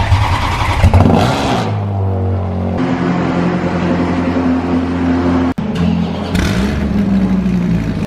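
A Lamborghini Urus sports car engine starting up with a sharp crank and burst, then revving loudly and settling into a steady idle, with a second rev blip near the end, close and strong.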